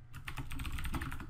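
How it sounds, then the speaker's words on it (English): Rapid typing on a computer keyboard for a Windows Phone 8.1 SDK emulator, a quick run of close, crisp key clicks with no voices. "Typing on here is a pain, especially when using a keyboard."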